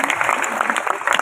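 Dense, continuous applause from an audience at an Isra Mi'raj religious gathering, many hands clapping close together with voices blended underneath.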